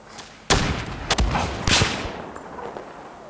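Sharp sniper rifle shots in Battlefield 4, a few loud distinct cracks spaced about half a second apart, then fading game ambience.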